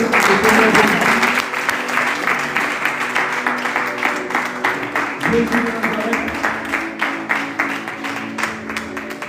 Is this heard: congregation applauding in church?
yes